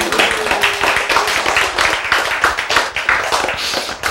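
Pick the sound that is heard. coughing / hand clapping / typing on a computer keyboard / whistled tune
hand clapping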